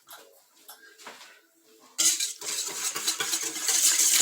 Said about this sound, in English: now we're going to give that a nice mix